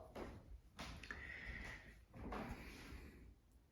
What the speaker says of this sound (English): Let me just close this door over here to minimize the glow from the door behind us.